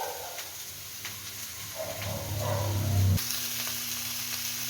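Yakisoba sauce thickened with cornstarch hits a hot pan and sizzles, a steady frying hiss that grows louder and heavier for a few seconds, then settles into a brighter, even crackle.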